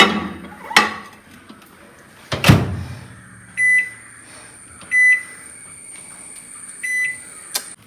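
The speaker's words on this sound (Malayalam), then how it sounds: "നമുക്ക് ഇതൊന്ന് ഓവനിൽ വെച്ചിട്ട് ചൂടാക്കി എടുക്കാം." Loaded fries go into a microwave to be reheated: a couple of heavy thumps of the door and handling, then a series of short electronic beeps at intervals, close and clear with no talking.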